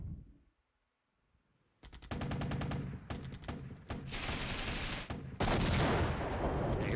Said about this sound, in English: Here comes the other big guns. And the mortars.